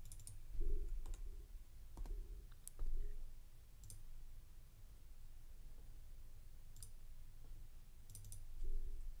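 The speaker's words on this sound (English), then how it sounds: "I'll even do the left scroll, right scroll, and the secondary click." Logitech G502 Hero gaming mouse buttons clicking and scroll wheel turning, a few sharp isolated clicks scattered across a quiet room with soft low background noise.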